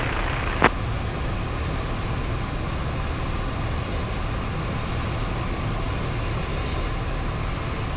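Small single-engine airplane on final approach as power is reduced, a steady loud cabin drone of engine and wind that holds without a break, with one brief click near the start.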